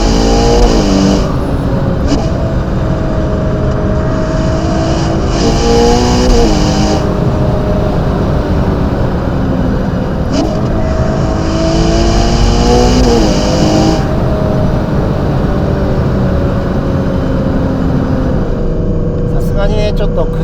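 A Ferrari Purosangue drives along a winding road, its engine droning loud and steady, rising and falling through gear changes, while someone talks throughout.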